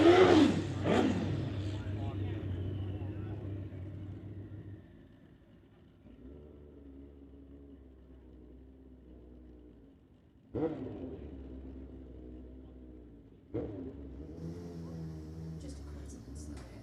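Steve Abbassini's drag racing motorcycle, the Blackbird, launches down a drag strip with a loud roaring burst that fades into the distance, then quieter rumbles and further engine surges follow, with a commentator talking over it.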